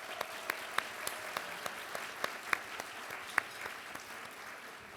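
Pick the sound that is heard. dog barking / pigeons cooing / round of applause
round of applause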